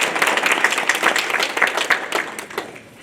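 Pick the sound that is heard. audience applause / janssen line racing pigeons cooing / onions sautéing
audience applause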